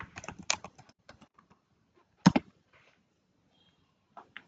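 Quick bursts of typing on a computer keyboard, a short run of clustered key clicks followed by a pause and a couple of sharper, louder strokes, close and clear with no talk.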